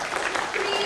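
An improv comedy theater audience claps along in a dense, even patter, a brief burst of many hands together heard close, with a voice faintly present.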